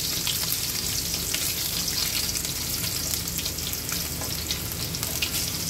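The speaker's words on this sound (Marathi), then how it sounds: "आता आपण छान व्यवस्थित परतून घेऊया लसूण थोडीशी लालसर होईपर्यंत।" Crushed garlic cloves fry in oil in a pan for a spicy misal, giving a steady, dense sizzle that runs loud and unbroken throughout with no voices.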